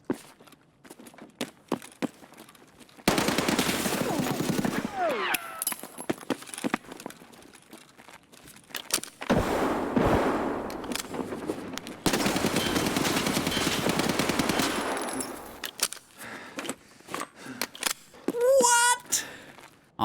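Bursts of UMP submachine gun fire in Escape from Tarkov, loud sustained automatic volleys from about 3 to 15 seconds with quieter gaps, scattered single shots and footsteps, ending with a few short sharp reports near the close.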